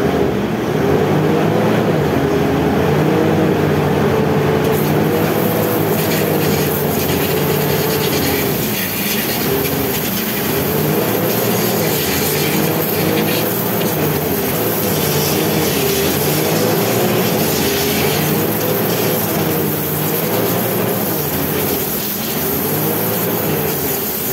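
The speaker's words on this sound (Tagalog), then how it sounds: "Start ko na itong makina." A Ford Everest engine, its muffler pipe just cleaned of carbon, runs at a steady idle, a dense close rumble with a faint rhythmic pulse continuing unchanged and loud throughout.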